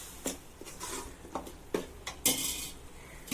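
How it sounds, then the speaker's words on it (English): Chicken vindaloo curry with garam masala being stirred in a pan as it fries, with a little oil added: scattered spoon scrapes and clinks against the metal pan over a faint, steady sizzle. "And now I am going to mix it and let it fry for about 5 minutes."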